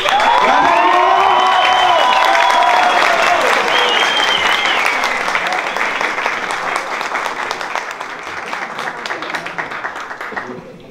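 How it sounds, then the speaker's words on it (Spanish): Audience at a stand-up comedy show breaks into loud applause and cheering, with whistles and shouts ringing over dense clapping that slowly thins toward the end. "quiero que den un fuerte aplauso"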